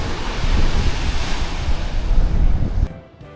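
Loud surf on an island shore, with waves arriving from two sides, and wind rush together in a continuous roar, wind buffeting the microphone, easing off abruptly near the end.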